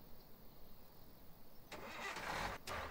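A car engine in the video game Thief Simulator cranks and starts partway through after a quiet stretch, then settles into a steady mid-pitched idle, with a brief dropout near the end.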